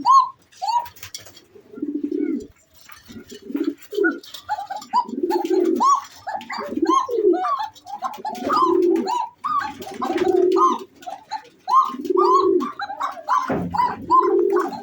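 Red Bashiraj Koka pigeons cooing in repeated deep, rolling bursts, close and loud, with short pauses between the calls and a few faint chirps from other birds behind them.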